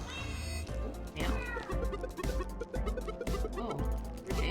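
Cat meows from the video game Nekomancer of Nowhere, heard over loud, rhythmic game music that keeps playing throughout.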